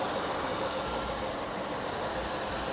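A Mercedes W126 420 with a V8 engine idles as a steady, even hum with a faint low pulsing, heard at moderate level and alone without talk.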